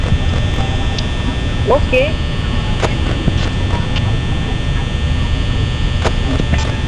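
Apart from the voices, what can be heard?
loud fan humming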